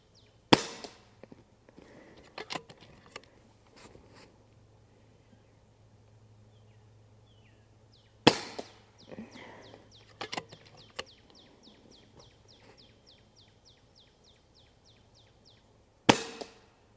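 An FX DRS .22 caliber PCP airgun fires pellets, three sharp isolated cracks spaced several seconds apart, each followed by faint small clicks and clatter in an otherwise quiet room.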